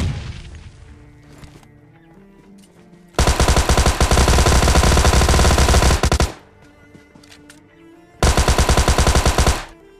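A Tommy gun in the game PUBG Lite fires two loud, sustained automatic bursts of rapid shots, the first about three seconds long and the second shorter, separated by quieter game sounds.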